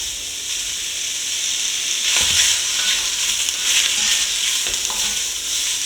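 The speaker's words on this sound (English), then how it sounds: "we're gonna start by browning off our smoked sausage" Smoked sausage browning in a large soup pot over medium-high heat for gumbo, giving a steady, close hiss of frying fat with occasional scraping stirs of a utensil against the pot.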